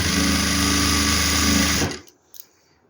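A sewing machine stitches a farshi salwar with a fast, steady whirring run for about two seconds, then stops abruptly, leaving near silence with a small click.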